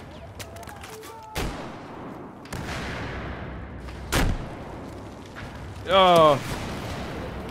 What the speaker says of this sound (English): That was like a barrage of missiles.